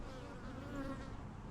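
Bees buzz around a spring hive outdoors, a faint, steady, continuous hum with no voices.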